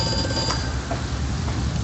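A telephone rings in the horror video game Amnesia, a thin repeating ring carried over a steady, noisy background ambience.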